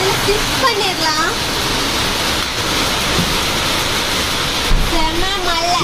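Heavy rain pours down outside, a steady dense hiss filling the whole stretch, with a voice speaking over it at times.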